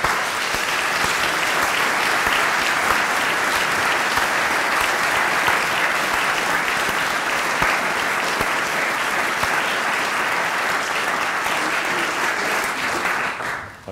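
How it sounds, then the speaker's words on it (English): A large gathering at a memorial celebration of a man's life breaks into long, steady applause, a full and even roar of clapping that continues for over ten seconds before tapering off. "Give them all a good round of applause,"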